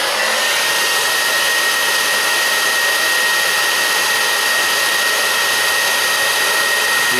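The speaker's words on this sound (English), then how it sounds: "So I'll turn on your heat gun." A heat gun blows steadily and loudly at close range, softening the glue holding a reflector on a Harley-Davidson motorcycle, a continuous even roar with a faint whine and no pauses.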